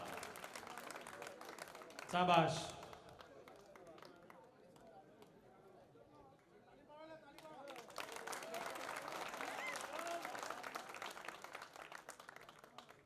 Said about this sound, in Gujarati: તાળી પાડો, તાળી પાડો જોરદાર